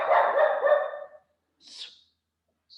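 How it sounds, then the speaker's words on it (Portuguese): A dog barks once, close and fairly loud, followed by a faint, brief yip, with silence around it. "o cachorro está latindo aqui"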